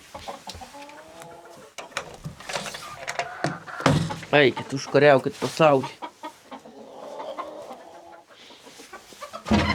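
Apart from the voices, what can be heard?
chickens clucking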